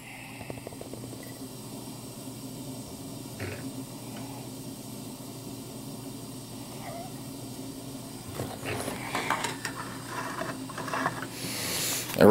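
A wheel and axle physics demonstrator being wound up, its strings winding onto the axle with a soft mechanical ratcheting and clicking that grows busier and louder toward the end.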